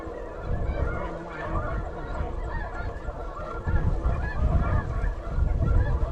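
A flock of geese honk continuously during a goose hunt in a blustery snowstorm, dense overlapping calls at moderate distance over wind noise, growing louder toward the end.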